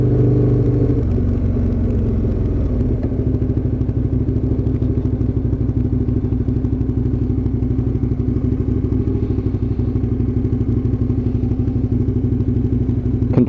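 Aprilia RSV1000 Mille motorcycle on a quick test ride, its V-twin engine running steady and loud with a low, throbbing drone throughout, close up, with no talking.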